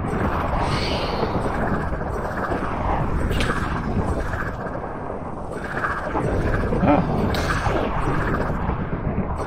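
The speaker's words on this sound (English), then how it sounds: "That's a lot of lightning back there." Thunder from lightning in the Minecraft video game, a loud sustained rumble with crackling bursts over steady rain-like noise; a voice briefly exclaims.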